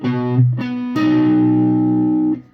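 A loud distorted electric guitar chord is played, briefly cut, then struck again and sustained with a buzzy, effect-laden tone before stopping.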